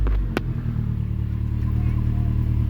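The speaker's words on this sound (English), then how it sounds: "I'm gonna let it sit here and idle for a little bit and warm up" Cold boosted Nissan D21 Hardbody engine idling, a steady low rumble close by after a brief opening knock.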